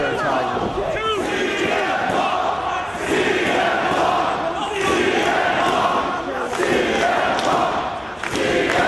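A dense wrestling crowd at an ROH event roars and chants for CM Punk, a loud, sustained wall of cheering and shouting with swelling surges, while an announcer's voice runs over it.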